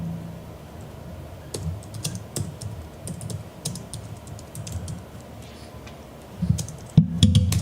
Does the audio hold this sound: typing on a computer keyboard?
yes